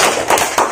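Brief burst of clapping from a class or audience, a few quick sharp claps lasting under a second, close and fairly loud.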